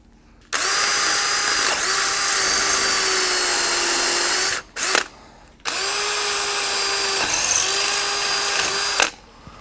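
A power drill bores a one-inch-deep hole for Wilwood disc brakes on an 85 Cutlass, whining loud and steady in two long bursts separated by a brief stop and short blip.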